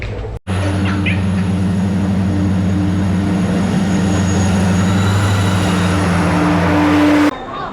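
Steady loud rumble of a train at Thane railway station with a constant low hum and a faint high whine, running continuously before cutting off abruptly.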